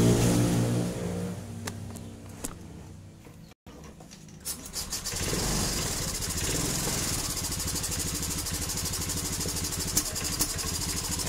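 A Honda Beat PGM-Fi injection scooter engine runs steadily after a brief start, a continuous close mechanical drone with an irregular idle during a repair of hesitation when throttling.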